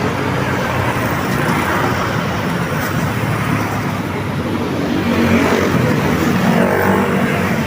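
Dense, heavy road traffic roars steadily near an airport, with car and bus engines rumbling continuously and loudly, close by and without talk.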